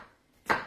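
A single sharp knife chop through a bell pepper onto a cutting board, close and crisp, while spaghetti sauce is being prepared, followed by a short fading ring.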